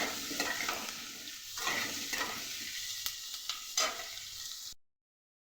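Potato pieces fry with a dried red chilli in an oiled pan, giving a soft, continuous sizzle punctuated by light stirring scrapes, close and fairly quiet, before cutting to silence near the end.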